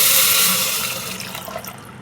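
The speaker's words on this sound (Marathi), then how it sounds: "आता आपल्याला गरम पाणी घालायचं आहे मी दीड कप पाणी घातलेले आहे" Hot water, about one and a half cups, is poured into a pan of roasted grain for fasting kheer, a brief close splashing pour that starts strong and tapers off over two seconds.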